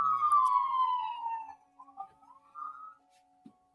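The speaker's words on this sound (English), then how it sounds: "I apologize for the sirens." A police siren wails outside, its falling tone fading as it passes, with a few faint wavering rises afterward that trail off into quiet.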